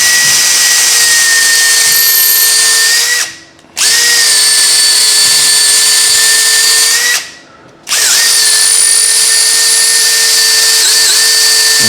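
A power drill boring into wood while building stairs whines loudly at steady speed, stopping briefly twice before starting up again, each run lasting several seconds.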